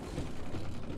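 A crank mechanism is turned in the game Resident Evil Village. It gives a quiet, quick run of ratcheting, gear-like clicks over about a second.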